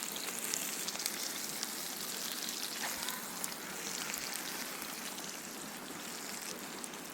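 Eggs fry in a pan on a Firebox Freestyle campfire stove outdoors, giving a steady, faint sizzle and crackle that continues evenly throughout without pauses.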